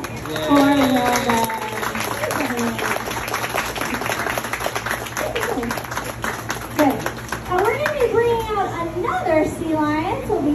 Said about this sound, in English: How about a big round of applause for Amanda?